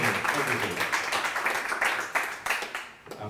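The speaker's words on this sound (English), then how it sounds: "Applause for Safe, please" Audience applause fills a conference and expo hall at a Blackmagic Design event in Kenya, a steady wash of many hands clapping close by that thins slightly toward the end, with a little voice mixed in.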